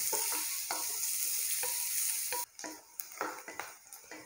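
Finely chopped onion frying with ginger in a pan for dal khichdi, a loud continuous sizzle, then stirring scrapes and clatters as the hiss drops off partway through.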